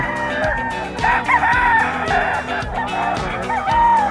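A pumpkin-variety straight-comb gamefowl rooster crows loudly and close, with several long drawn-out crows following one another over a steady background of other birds.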